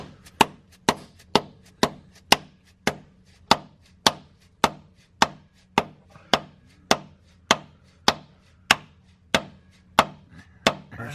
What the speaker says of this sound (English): I got this hammer right here.